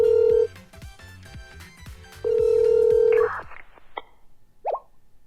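A phone call to Rio's burner phone in the Blue Archive video game: two long electronic ring tones over soft background music, then short clicks and a brief chirp as the call connects.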